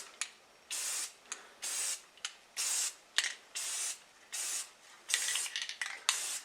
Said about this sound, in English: You get a little test spray.